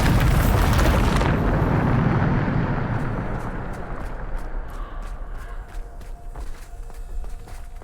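A Bombarda explosion spell in Hogwarts Legacy bursts loud and broad, then decays into a long rumbling tail scattered with crackling debris and light step-like taps.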